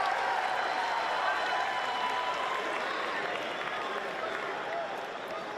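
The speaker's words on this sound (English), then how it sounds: "Do you hear that? That's the whole crowd outside of the Jay Woo contingent." A large crowd roars and chants in an arena at the 2025 NCAA Division III wrestling championship, a dense sustained wash of voices heard at a distance with no break, fading slightly toward the end.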